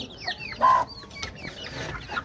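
Chickens cluck and chirp nearby in short, irregular bursts, with one louder squawk among the softer calls.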